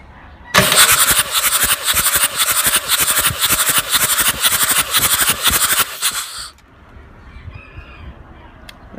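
A 1987 Mercedes 300 SDL's 603 diesel engine cranks during a compression test on cylinder one, a loud rhythmic chug-chug of the starter for about six seconds that stops abruptly, leaving a faint hum.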